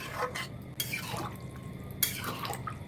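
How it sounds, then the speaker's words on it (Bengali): Water poured into a pan of fish curry with potatoes and cauliflower, heard as soft trickling and dripping with light clinks of the pan, faint and close, no talk. "এবার এতে পরিমাণ মতো আমি জল দিয়ে দিচ্ছি"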